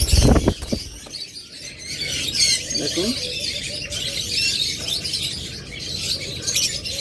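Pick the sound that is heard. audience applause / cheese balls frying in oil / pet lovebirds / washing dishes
pet lovebirds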